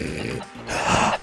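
A person breathes heavily and roughly. Grunting exhales and inhales sit close to the mic and are loud, with no clear speech.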